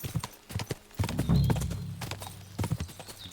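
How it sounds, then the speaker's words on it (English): A horse in the video game Kingdom Come: Deliverance II gallops with close, loud hoofbeats in a quick clip-clop rhythm, with a brief whinny and a faint voice. "get off the horse"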